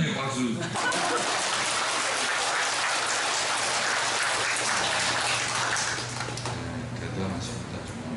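A church audience in Jeju gives sustained, dense applause that stays steady and loud for several seconds before easing off slightly toward the end.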